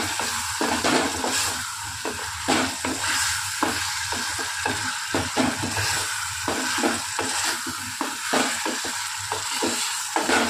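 Tomatoes and potatoes fry in a pan, giving a continuous hiss and sizzle broken by frequent stirring scrapes and utensil knocks, close and alone with no voices.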